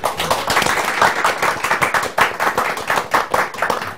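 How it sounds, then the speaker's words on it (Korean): Studio audience applauding a guest's introduction on a talk show, a few seconds of close, fairly sparse clapping with no voices. "여러분 박수로."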